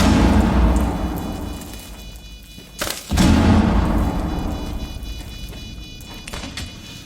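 A frag grenade goes off in Rainbow Six Siege, a single sharp, loud blast in the middle of a steady, buzzing game background that swells briefly and then fades out slowly.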